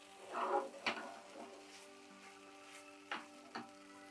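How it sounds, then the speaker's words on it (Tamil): Wheat flour halwa cooks in ghee in a nonstick pan over a low flame, with a soft, faint sizzle and a few quick scrapes of the spoon as it is stirred. "நல்லா சிம்மில் தான் நான் போட்டு கிண்டிகிட்டு இருக்கேன்"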